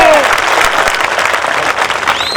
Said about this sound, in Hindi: जोरदार तालियां बजाओ गोंडी के लोगों,